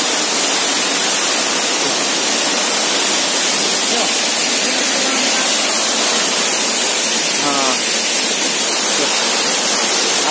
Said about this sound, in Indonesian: Tuh, kita lihat air terjunnya.